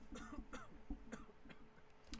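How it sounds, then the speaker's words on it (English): Faint, repeated coughs or throat-clearing at a steady rhythm, about one every half second, quiet and slightly distant. "originally that coughing was so much louder"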